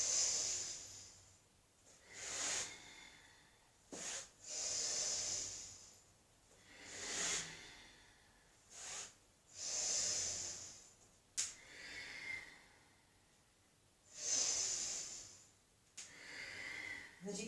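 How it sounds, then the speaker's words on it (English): Rapid, rhythmic inhale-exhale breaths from a person doing a Tibetan Rites breathing exercise, with about a dozen sharp, hissy, snort-like puffs in a steady cycle, close up and fairly quiet. "Inhale, exhale, inhale, exhale."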